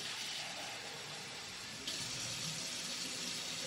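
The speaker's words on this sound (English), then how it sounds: "you're going to add 2 3/4 cups of very warm water" Very warm water runs and pours steadily from a tap for homemade bread dough, a continuous hissing splash that shifts slightly midway, with no talk.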